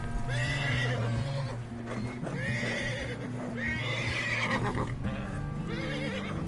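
Repeated horse whinnies and snorts from the video game Red Dead Redemption 2, over a constant background of hooves and movement, loud and close, several neighs rising and falling.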